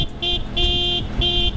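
The stock horn of a Benelli TRK 502X motorcycle sounds three short, close toots with a thin, buzzy electric tone, spaced about half a second apart over a low engine idle.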